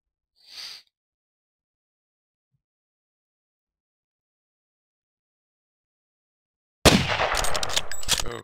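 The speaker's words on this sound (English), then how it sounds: "Was that a gunshot? I think so." A burst of sharp, close gunfire-like cracks and clatter from the JFK Reloaded video game erupts after long silence, preceded by a short faint hiss at the start.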